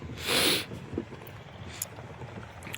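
Wind blows around an outdoor spot near a Hanuman temple, giving a steady rushing noise with gusty microphone buffeting. Brief louder swells and faint scattered background sounds come and go.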